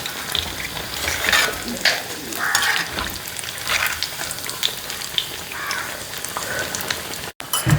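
Chicken fries in hot oil with a loud, crackling sizzle and bursts of popping, and stirring adds rhythm throughout.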